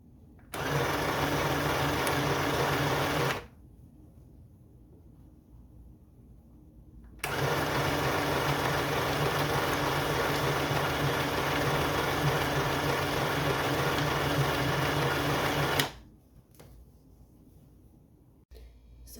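Sewing machine stitching a plain seam with a 5/8-inch allowance, running in two steady, loud close bursts, one about three seconds and a longer one of about nine seconds, with quiet pauses between.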